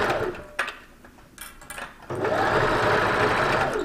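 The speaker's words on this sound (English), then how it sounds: "you're going to sew a small seam allowance away from the edge. So backwards and forwards in the beginning." A sewing machine stitches a small seam in stretchy fabric with stabilizer, running in short bursts and then a steady, loud whirring run close by.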